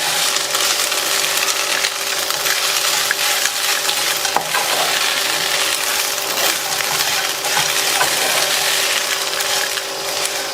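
Kozhukattai filling mixture with salt being stirred in a pan: continuous close scraping and clinking of a spoon against metal over a constant frying hiss.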